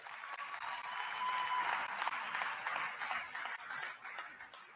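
Audience applause from a church recording, a steady dense wash of many hands clapping heard from a distance, fairly quiet and sustained throughout.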